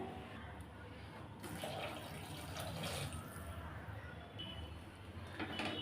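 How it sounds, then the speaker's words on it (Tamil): Four cups of water are poured into a pot of sautéed vegetables for vegetable soup, a soft, continuous splashing and filling sound heard faintly and close by. "இப்போ நாலு கப் அளவு தண்ணி சேர்த்துக்கலாம்"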